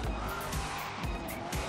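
Car in Forza Horizon 3 cornering hard, engine roar under a continuous tire squeal, close and steady throughout the short turn.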